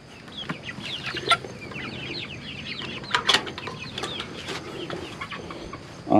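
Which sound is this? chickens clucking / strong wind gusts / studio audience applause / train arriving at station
chickens clucking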